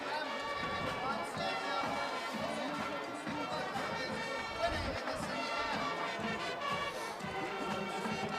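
Crowd at a 2014 Fitchburg versus Leominster high school playoff football game, a broad murmur of spectators with distant band sound and scattered voices throughout, continuous and moderately loud.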